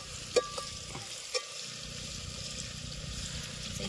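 Mutton masala stir-fried in a pan for a dry mutton fry, with a soft continuous sizzle and a couple of sharp spoon clinks early on, close and fairly quiet.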